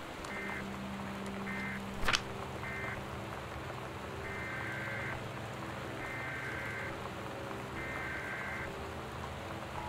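Steady rain falling during a severe storm in the game Gone Home, a continuous hiss of drops on surfaces throughout, with a brief loud crackle around two seconds and faint repeating electronic beeps in the background.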